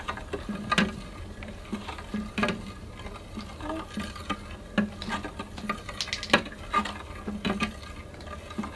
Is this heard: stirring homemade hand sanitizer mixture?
yes